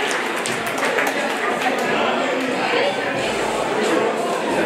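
An audience applauds at a boxing and K1 fight night gala, with steady, dense clapping and crowd noise filling the hall throughout.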